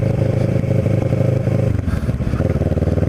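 A Kawasaki Ninja 650R motorcycle rides through the streets of West Cape May, its engine droning loud and close with a steady pulsing rumble and some wind clatter throughout.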